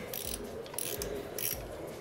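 Ratchet wrench clicking as bolts are loosened on a KLR650 motorcycle, with several short bursts of rapid ratcheting spread over two seconds at close range, no talking.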